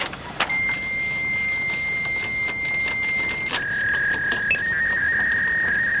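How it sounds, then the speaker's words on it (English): A fax machine's answering tone plays as a steady electronic whine for about three seconds, then shifts to a slightly lower steady pitch that holds to the end, over a faint background hiss. "when you hear the other person's machine's tone, you push send"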